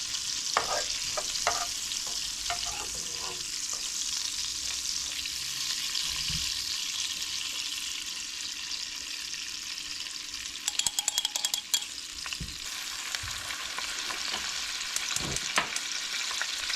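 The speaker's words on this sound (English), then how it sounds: "We're going to add the mushrooms. I hope it doesn't splatter me." Mushrooms sizzling in a frying pan on lowered heat, a steady close hiss with a few clinks of utensils against the pan and a brief burst of crackling later on, no talking.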